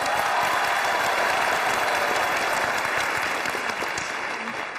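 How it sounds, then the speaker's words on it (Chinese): Steady, loud applause from a studio audience at a televised job-hunting show runs without a break for several seconds before easing slightly. "来来来，掌声掌声掌声啊！"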